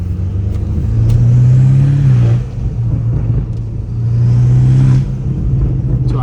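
A straight-piped BMW M5 Competition revs loudly twice, with a deep, rumbling roar that swells, holds and drops away close by, between brief lower idle stretches.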